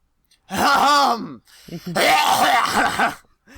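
An exaggerated throat clearing by a cartoon pony character, in two drawn-out, voiced bursts separated by a short pause, loud and close.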